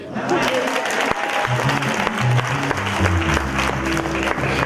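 A church congregation applauds the pastor at a baptism service, steady clapping mixed with crowd noise and some voices, sustained and fairly loud throughout.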